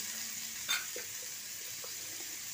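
Ground masala and water sizzle in a pan for rui fish curry, a steady soft hiss with a light clink or two early on, close but quiet.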